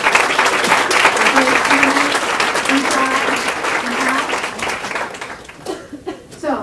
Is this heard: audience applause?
yes